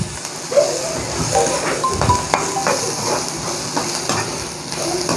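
Chili and ginger-garlic paste sautéing in a pan while being stirred, with a steady close sizzle, soft scraping and occasional utensil clinks against the pan, continuous through the whole stretch.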